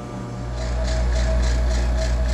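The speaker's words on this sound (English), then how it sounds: "from here, we are going to pull a vacuum." A vacuum pump evacuating the refrigerant system of a walk-in refrigerator runs with a steady motor hum and faint rhythmic pulsing, growing slightly louder over the first second and holding constant.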